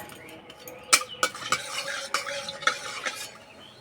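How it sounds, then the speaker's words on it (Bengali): Panch phoron, a five-spice seed mix, frying in mustard oil in a wok over a stove, with sharp clinks and a few quick stirring scrapes over a low sizzle, no talking. "তেলে দেবো 5 ফোড়ন,"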